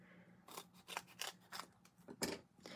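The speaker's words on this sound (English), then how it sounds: "I just cut this with my scissors" Scissors snip through double-sided adhesive paper during a card-making session, a quick run of about half a dozen crisp, close cuts with short pauses between them and no talking.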